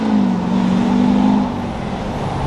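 A GMC Sierra 2500HD pickup with a big turbo and coilover conversion drifting, its engine holding a steady loud tone that drops off partway through, leaving rumbling road and tire noise.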